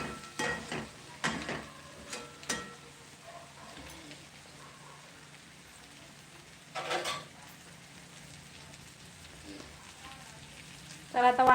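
Spatula scrapes and stirs brinjal in a pan for a dry Maharashtrian khara vangi, in a few quick scraping bursts near the start, a lone burst mid-way and another at the end, over a low background hum.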